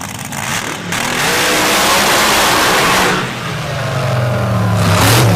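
A pair of supercharged Open Pro drag racing motorcycles, one running a 980R Whipple supercharger, roar down the track at a championship round, a loud sustained engine blast that dips briefly, then surges again with rising tone.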